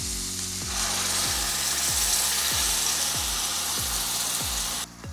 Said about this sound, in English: Cook your garlic and onions for about 5 minutes